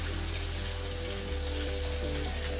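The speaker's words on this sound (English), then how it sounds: "we just add our tomatoes, our blended veggies to the tomatoes already frying." Tomatoes and blended vegetables fry in a pot for a fish vegetable sauce, giving a steady, close hiss and sizzle with no talking.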